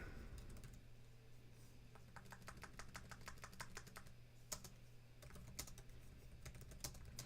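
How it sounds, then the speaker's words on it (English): Keys clatter on an old computer keyboard in quick irregular bursts, faint and close, over a low electrical hum with no one speaking. "my little machine here uses an old keyboard and the space bar doesn't always want to work"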